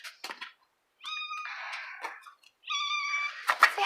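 Several clear meows come from stray cats kept on a farm, with bursts separated by short silences. A few sharp clicks sit between the calls, and the last call ends in a louder cry.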